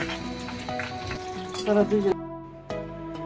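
Egg chops coated in breadcrumbs fry in hot oil, a steady close sizzle with crackling bursts and a few clinks of utensils, which cuts off abruptly partway through.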